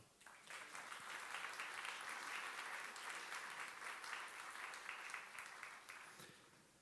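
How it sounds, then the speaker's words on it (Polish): A large audience applauds at the opening of the ninth Polska Wielki Projekt congress in 2019, a steady dense clapping that swells quickly, holds for several seconds and then fades. "Wielkie brawa."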